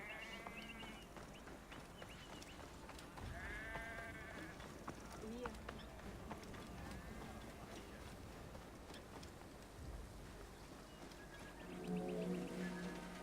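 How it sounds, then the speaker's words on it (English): Sheep bleat faintly in an ancient Egyptian setting in Assassin's Creed Origins, several wavering cries scattered across a quiet ambient scene, with someone talking over them. "Some very strange looking sheep there."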